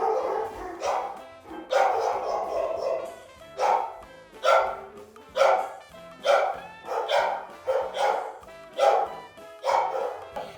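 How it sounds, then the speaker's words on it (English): Multiple dogs bark repeatedly indoors in a steady, excited rhythm, about a dozen yips and woofs at moderate loudness, some overlapping, with no speech over them. "I was trying to figure out what they were barking at"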